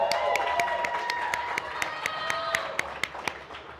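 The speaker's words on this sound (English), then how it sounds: "Make some noise one more time for these athletes." Crowd applauding and cheering at a strongman atlas stone event, with steady clapping and sharp periodic claps over a continuous crowd roar, fairly close and loud, with some voices mixed in.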